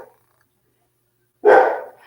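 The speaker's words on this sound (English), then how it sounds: "The dogs are not happy today." Dogs bark in a single loud, close burst after a quiet stretch, with a second yelp beginning right at the end, heard indoors during a decoupage sun hat craft session.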